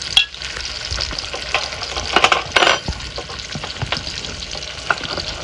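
Sliced saucisson fries and scorches a little in a spiced pan, loud sizzling broken by scraping stirs and a few sharper clatters of the utensil against the pan, with no voices.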